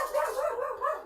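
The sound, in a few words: speaker's dog barking at someone at the door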